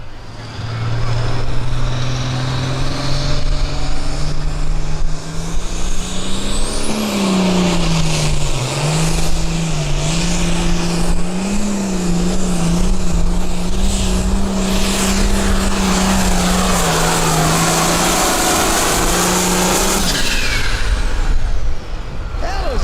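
A pulling tractor revs hard through a county fair tractor pull, its loud steady engine drone shifting pitch as RPMs climb and momentum slows, running continuously for over twenty seconds with faint crowd noise behind.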